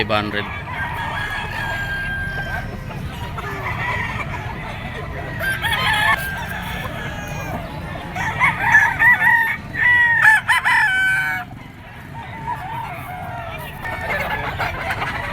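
A Hatch Gray rooster with blue legs and a straight comb crows several times at a gamefowl seller's stand, with clucking around it and someone talking over it.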